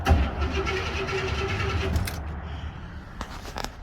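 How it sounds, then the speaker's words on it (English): A 1973 Buick Riviera boat tail engine cranks over, a steady low churning for about two seconds before it stops, followed by quieter rustling and a couple of light clicks. "And the motor does crank."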